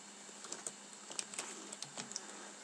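Typing on a computer keyboard, quick irregular key clicks heard faintly and close against a quiet room hum.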